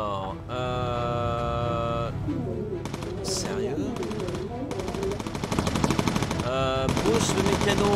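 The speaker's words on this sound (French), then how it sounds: "on commence à se prendre des balles." Machine-gun fire rattles in bursts against a bomber in the video game Bomber Crew, mixed with tonal game alarms and effects, while players talk over it.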